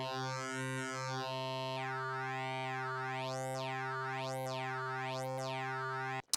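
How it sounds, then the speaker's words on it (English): A steady sine-wave tone from a Korg multi/poly synthesizer module, its timbre sweeping and folding through wavefolding into bright, rising and falling harmonic arcs, loud and continuous, ending in a sharp click. "you can see the sine wave changing shape here"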